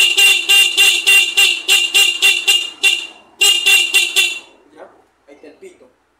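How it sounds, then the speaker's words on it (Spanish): A motorcycle horn wired with positive feed and switched on negative honks in a fast run of short, loud, evenly spaced beeps. After a brief gap a second burst follows, then it trails off into faint clicks. "Aquí lo alimentamos de positivo a nuestro pito, y lo vamos a activar con negativo"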